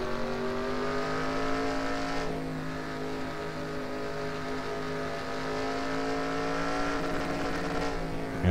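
A race car engine in the NASCAR Racing 2003 video game holds a steady high-revving drone with layered tonal harmonics, dipping slightly in pitch partway through and then climbing again, loud and continuous without speech.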